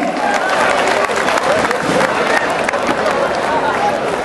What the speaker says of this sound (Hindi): मियां इम्तियाज हुसैन भरपूर तालियों में